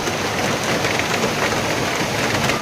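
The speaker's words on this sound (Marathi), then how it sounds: "जोरदार पाऊस आलाय लई" Heavy rain pours down steadily, a dense, loud and unbroken hiss of drops striking surfaces close by, with no voices heard.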